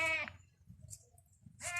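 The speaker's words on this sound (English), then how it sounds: "So this is the calf" A young calf on a rural farm gives two short bleating calls, one at the start and one at the end, separated by a quiet gap with soft background rustling, close and fairly clear.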